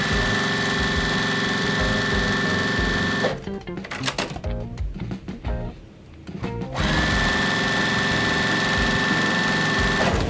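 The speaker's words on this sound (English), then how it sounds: "Now we're gonna sew a 1/4 inch on both sides of these" Sewing machine stitching quarter-inch seams through quilt fabric for a Halloween cat and spider web quilt, running steadily and loud, stopping for a few seconds mid-way, then resuming its even whir.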